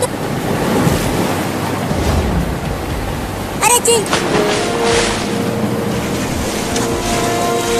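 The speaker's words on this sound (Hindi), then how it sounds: "देखो कितनी तेज बारिश हो रहा है और बिजली भी गिर रही है" Heavy rain and a storm roar as a steady wash of dense, loud noise, with gusts of wind throughout. A brief clattering burst occurs partway through.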